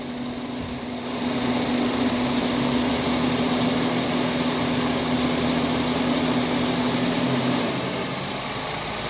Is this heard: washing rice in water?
no